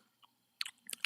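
Crunchy Takis rolled tortilla chips being chewed close to the mic, a few sharp crisp bites in quick bursts after a near-silent start.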